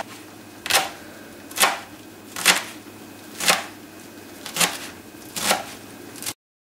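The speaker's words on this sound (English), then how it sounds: "So I'm just going to cut it up both ways." Knife chopping an ingredient on a board while making potato and turmeric soup: six crisp, evenly spaced cuts roughly a second apart, close and clear over quiet kitchen background.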